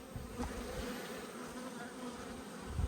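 Honey bees crowd around an open hive during an inspection, filling the air with a close, continuous buzzing drone and no speech.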